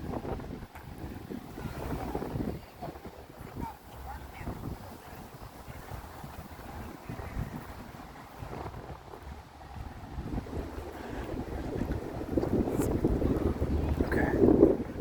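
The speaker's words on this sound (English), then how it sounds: "Real windy today" Strong wind buffets the microphone outdoors at the Pearl Farmers Market, a loud rumbling roar that rises and falls in gusts and swells louder toward the end.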